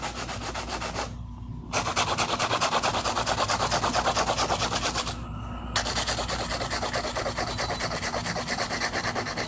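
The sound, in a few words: hand filing nails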